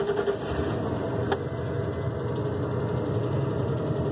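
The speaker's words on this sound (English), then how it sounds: "So that's the 351 Windsor running. Not bad. That's a cold start" A 351 Windsor V8 in a Sportsmobile van idles after a cold start, a steady close rumbling drone with an even, constant level and no talking.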